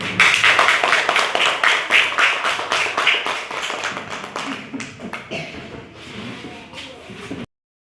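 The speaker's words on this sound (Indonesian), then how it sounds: "kita beri tepuk tangan" A class of students claps for the fourth and final group after its presentation, a run of quick, uneven claps that starts loud and close, thins out and fades toward the end, with faint voices mixed in.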